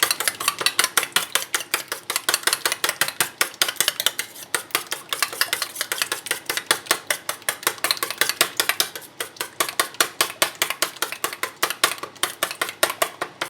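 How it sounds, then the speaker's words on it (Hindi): A spoon whisks eggs with chilli in a bowl for breakfast, clicking rapidly and steadily against the sides in a dense, even rhythm throughout, close and fairly loud with no talking. "तो यहाँ मैं अंडे के लिए थोड़ी सी मिर्च डालूँगी, चम्मच की मदद से मिक्स कर लेंगे"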